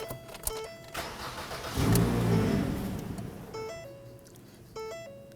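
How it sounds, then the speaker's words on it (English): A 2008-2011 Ford Focus 2.0L four-cylinder engine cranks and catches, revving up loudly before settling into a steady idle, with electronic chimes beeping in the background. "Let's go ahead and start the vehicle."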